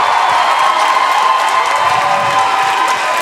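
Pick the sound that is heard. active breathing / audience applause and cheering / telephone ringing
audience applause and cheering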